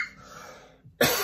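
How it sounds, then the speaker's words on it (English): A single person coughs close up, with a rough, breathy buildup followed by a sudden loud hacking burst at the end. "We all cough from time to time"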